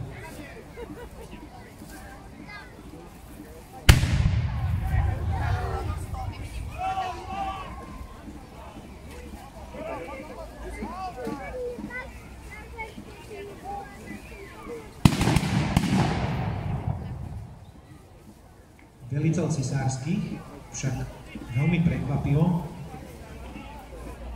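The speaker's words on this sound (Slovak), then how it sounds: "delostreleckú prípravu zo strany všetkých dostupných zbraní nezvládnu" Cannon and musket fire at a reenactment of the 1621 battle for Bratislava: two sudden loud blasts about eleven seconds apart, each booming over a steady outdoor crowd murmur with distant voices.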